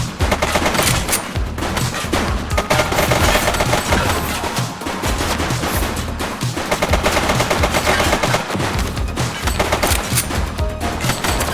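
Rapid bursts of gunfire from the police action game The Precinct, dense and continuous like sustained machine-gun fire, loud and close throughout with dense layered shots and no speech.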